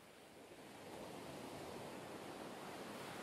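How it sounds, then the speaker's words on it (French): Ocean waves washing onto a beach make a steady, broad hiss of surf that swells louder after the first second and then holds, with no voices. "J'aime vraiment m'asseoir au bord de la plage. Les vagues sont si apaisantes."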